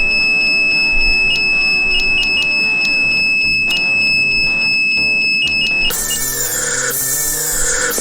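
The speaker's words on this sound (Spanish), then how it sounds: "se dispara la alarma." A loud, continuous high electronic alarm tone from a horror video game sounds steadily, then shifts to a harsher buzzing wail near the end.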